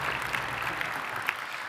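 An audience at a spring new-student convocation claps steadily after a speech, a sustained wash of applause at moderate distance with a few sharper individual claps.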